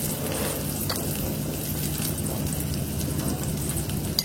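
Garlic, onion and cumin fry in hot oil as a tempering for dal, giving a steady, close crackling sizzle with light popping, continuous throughout and with no talk.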